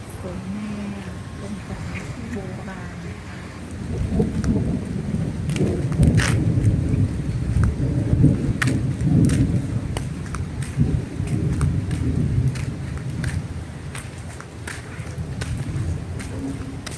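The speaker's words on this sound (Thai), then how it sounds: "เสียงฟ้าร้องคำรามครับ" Thunder rumbles at a Thai Buddhist temple, Wat Phra That Umong Sila Banphot, with low rolling swells building and fading over rain, and a voice speaking at times.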